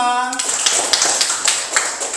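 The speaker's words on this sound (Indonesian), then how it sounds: "Tepuk tangan untuk kelompok 5." Classroom applause for a student group in a school lesson, a dense patter of many hands clapping at moderate volume right after a brief voice, continuing evenly to the end.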